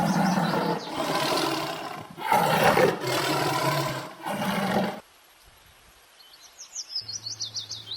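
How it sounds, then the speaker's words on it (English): A series of loud, rough roars from a tiger come in several long bursts, followed by quieter birdsong chirping afterward. "T for tiger."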